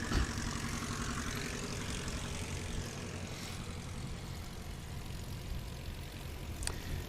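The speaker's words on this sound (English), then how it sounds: "we're going to have the aircraft taxi back for their next run of practice" A propeller-driven STOL competition aircraft taxis back at a practice event, its engine a steady, fairly distant drone and rumble that holds on without talk, with a brief clatter at the very start.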